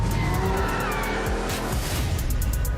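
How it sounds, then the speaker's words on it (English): Race car engines roar continuously during a street race filmed in Rio, a dense, loud mechanical drone with tire noise and no pauses. "Racers, start your engines."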